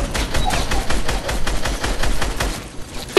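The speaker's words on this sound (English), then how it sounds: "I'm shooting this kid's glider." Rapid bursts of gunfire in Fortnite aimed at another player's glider, a loud, dense stream of shots played alone.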